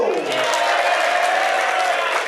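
A short burst of crowd applause, many hands clapping together at once, fairly loud and steady before fading.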